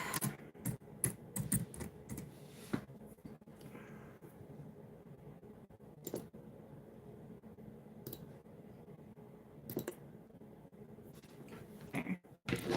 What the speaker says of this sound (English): it helps to type properly